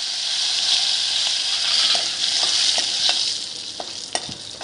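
Red chillies, turmeric and curry leaves fry in a pan for a masala dosa filling, giving a loud, steady sizzle broken by a few sharp stirring clicks near the end.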